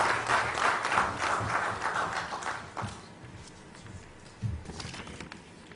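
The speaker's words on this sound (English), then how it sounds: "A round of applause for our Honorable Chief Minister" Audience at an investors meet in Goa applauding the Chief Minister, a dense round of clapping that fades out halfway through, leaving a quiet room with a few scattered claps.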